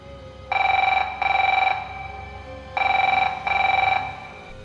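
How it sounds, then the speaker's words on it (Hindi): A telephone rings in two double bursts of shrill trilling tones, separated by a pause, loud and alone with only faint background hum. "उसके फोन की घंटी बजी"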